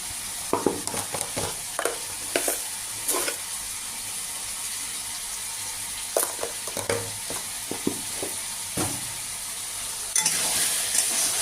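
Chicken ghugni sautéing in a pan, stirred repeatedly: a steady low sizzle broken by irregular scraping strokes of the spoon, with a brighter, louder hiss toward the end.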